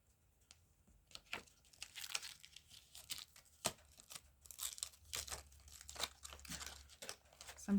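Acetate backing of stamp packaging crinkling and rustling up close, irregular bursts of crisp plastic crackle with a few sharper snaps, no talking.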